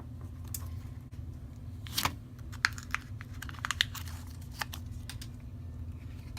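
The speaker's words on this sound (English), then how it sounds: "so let's unwrap them" Plastic wrap peeled from a Lenormand card deck, close and soft: scattered crinkles and small tearing crackles over a steady low background hum, with no talking.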